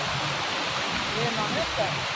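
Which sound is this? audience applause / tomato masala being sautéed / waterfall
waterfall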